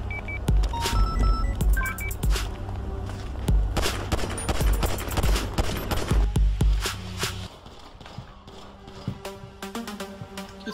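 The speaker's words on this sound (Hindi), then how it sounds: "गोलियां चल रही पर आ रही नहीं गोलियां" A GTA 5 roleplay shootout between police and a gang, with rapid bursts of automatic gunfire and single shots cracking loudly for about seven seconds. Sparser, fainter shots and game sounds follow, with no talk.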